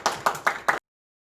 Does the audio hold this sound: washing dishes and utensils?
no